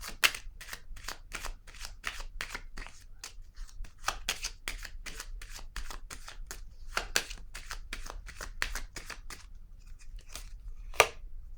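Tarot cards being shuffled by hand, a long run of quick, crisp riffling snaps in a steady close rhythm, fairly loud and unbroken, with no talking over it.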